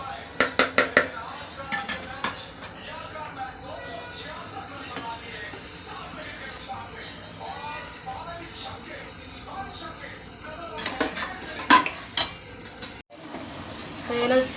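Eggplant bharit is tipped into masala and stirred in a pan, with sharp metallic clanks and scrapes of a utensil on the pan that bunch at the start and near the end, over a low sizzle, close and alone.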